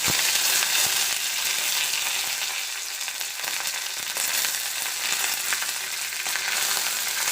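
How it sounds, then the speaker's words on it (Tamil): Mustard seeds, curry leaves and dried red chillies crackle in hot oil as a tempering for chutney, a loud, dense sizzle with scattered pops and faint stirring, steady and close. "கடுகு நல்லா பொரிஞ்சதுக்கப்புறம் கருவேப்பிலையும் காஞ்ச மிளகாவும் போட்டு தாளிச்சிக்கலாம்"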